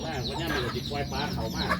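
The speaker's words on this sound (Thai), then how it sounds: "ตรงนี้มีเล้าไก่นะครับ" Chickens cluck around a backyard coop beside rice paddies in rural Thailand, a steady run of close, moderately loud clucks over a constant low background hum.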